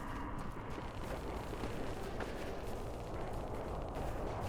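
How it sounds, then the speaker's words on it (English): Distant gunfire rumbles through a Halo 3 battlefield as a steady, muffled roar of far-off shots and blasts, with no clear individual reports standing out. "You get the distant gunfire."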